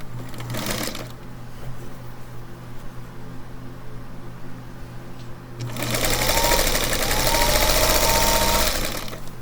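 A sewing machine stitches quilt binding ends, starting with a brief loud burst of fast running stitches, then a quieter pause, then a longer close, steady whirring run.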